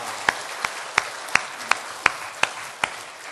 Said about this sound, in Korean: 우리 큰 감사의 박수로 하나님께 영광을 돌리겠습니다